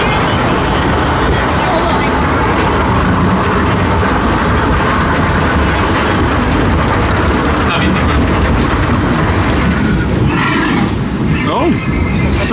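A scenic train ride at the PortAventura theme park, heard as a steady broadband rumble of running carriages with crowd babble and voices throughout.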